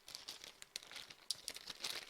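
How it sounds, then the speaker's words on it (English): Plastic dice dropped into a soft bag after a tabletop miniatures wargame mission, heard as close, rapid crinkling and rustling with small clicks scattered through the brief moment. "Put my dice back."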